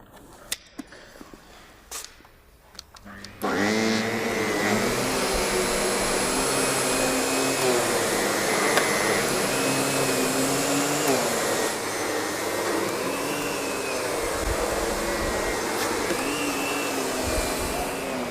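An SEB 236 upright vacuum cleaner with a power nozzle starts up after a few faint knocks and then runs with a loud, steady whine and roar that continues to the end, with a slight dip partway through.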